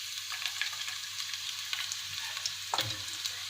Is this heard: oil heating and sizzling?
yes